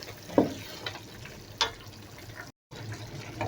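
Fried onions and spring onion being stirred in a hot pan, with soft sizzling under a few scraping clinks of the utensil against the pan and a brief silent gap.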